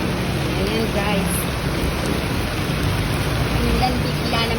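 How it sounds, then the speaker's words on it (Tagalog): A sudden downpour hisses steadily as a broad, even wash of rain noise outdoors in the Philippines, with faint indistinct sounds mixed in. "Ulan bigla."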